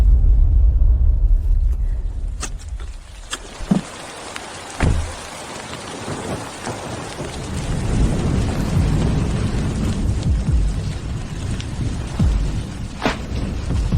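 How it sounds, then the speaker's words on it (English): Heavy pouring rain, a loud, steady wash of dense noise with deep rumbling underneath and scattered sharp drips and knocks nearby, no talk. "It's pouring rain."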